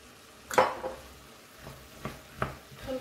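A spoon stirs salt and pepper into a light homemade soup in a pot, giving a few soft scraping and clinking strokes spaced irregularly, fairly quiet and close, with no talking.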